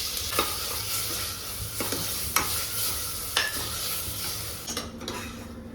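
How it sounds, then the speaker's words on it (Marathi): Spice masala sautés in a hot pan on a home stove, with a steady oily sizzle and a spoon stirring and scraping in a slow repeating rhythm, close and moderately loud. "थोडासा गॅस मोठा करून त्याला अजून थोडं एक अर्ध्या मिनिटासाठी छान परतते"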